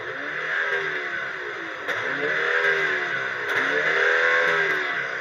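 A BMW M135 fitted with a sports exhaust revs up a few times, its engine note rising and falling in sweeping bursts with light clattery pops, heard fairly close and without talk.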